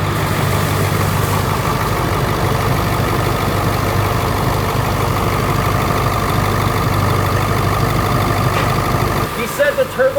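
A diesel car engine idles steadily and loudly close by, a continuous low rumbling chug that cuts out near the end.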